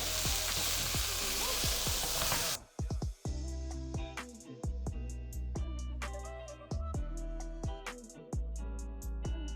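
Onions frying in a pan for an Indian dhal, a steady loud sizzle for the first few seconds, then quieter crackling with repeated sharp clicks and scrapes of stirring.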